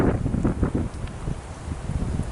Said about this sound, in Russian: хотя ветер еще сильный